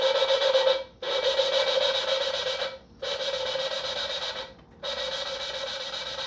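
Steady gritty rasping of a big-block engine head valve being lapped with grinding compound, in four long strokes separated by short pauses, close and continuous.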